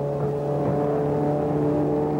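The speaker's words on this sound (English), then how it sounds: "The trouble-plagued Chaparral team pits its number 12 car." Steady idling drone of a 1966 Chaparral race car, the number 12 entry, sitting in the pits at Sebring with an oil problem, a close, constant low engine hum with no speech.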